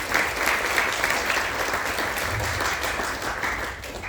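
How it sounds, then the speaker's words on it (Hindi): An audience gives loud, steady applause welcoming Dr. Jaiprakash Soni at a structural retrofit talk, dense clapping sustained throughout and easing slightly at the end. "उनके साथ जोरदार तालियों से स्वागत जो भी है"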